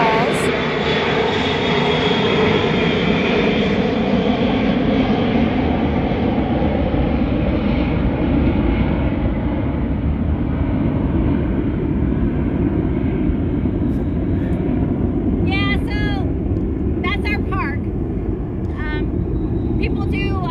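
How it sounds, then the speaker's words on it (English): A fixed-wing airplane passes low overhead near an airport, a loud continuous engine roar that slowly shifts in pitch as it goes by, while birds chirp briefly near the end. "we have an airplane going over right now"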